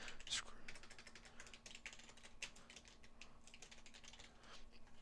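Steady rapid keystrokes on a computer keyboard, quiet and close, typing in short bursts over a faint hum, with no voice heard.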